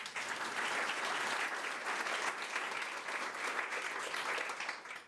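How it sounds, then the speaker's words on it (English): Audience applause at a university library event, a dense, steady clapping from a crowd that holds an even level throughout before tapering off at the end. "make sure you clap really loudly for that one"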